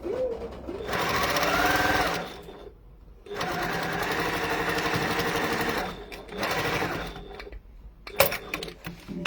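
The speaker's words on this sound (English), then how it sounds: "I'm going to sew that same edge again" A sewing machine runs along the same edge of fabric again in three close bursts of rapid whirring stitching, with brief quiet gaps between them. It ends in a few clicks.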